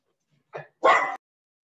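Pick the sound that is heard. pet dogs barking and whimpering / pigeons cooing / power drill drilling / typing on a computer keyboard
pet dogs barking and whimpering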